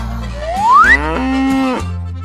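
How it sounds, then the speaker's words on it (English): A single cow moos loudly in one drawn-out call, set over bouncy cartoon music with a rising whistle effect just before it; nobody speaks. "Cow."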